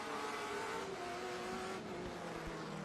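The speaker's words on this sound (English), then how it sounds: "how much he's working that car, changing the gears, getting on the acceleration" Race car at Lime Rock Park during a SpeedTour All-Star race, engine droning and rising in pitch as it accelerates through gears, a continuous fairly loud onboard roar with no talk.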